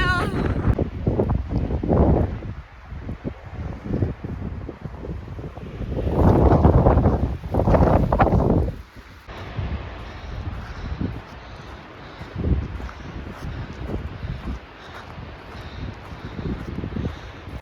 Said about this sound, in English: the wind today has been insane.